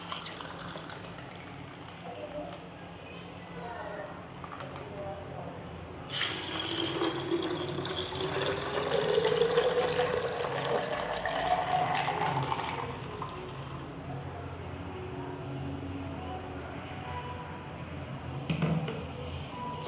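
Liquid poured into a container while a homemade cooling drink is prepared, a gentle trickle becoming a fuller rising gush for several seconds, then easing off under quiet room noise.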